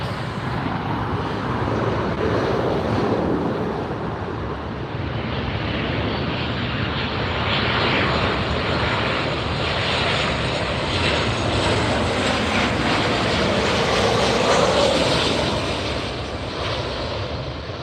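A WestJet airliner passes over LAX with a steady, broad jet roar that holds loud and even for the whole stretch, swelling slightly near the middle.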